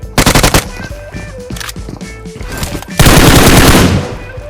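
Bursts of rapid automatic gunfire in a video game, loud and close, with scattered shots between and a dense sustained volley near the end.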